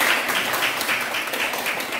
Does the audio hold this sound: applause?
yes